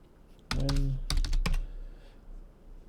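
Typing on a computer keyboard: a short cluster of close keystroke clicks over about a second, with a brief voice mixed in, then quiet room tone.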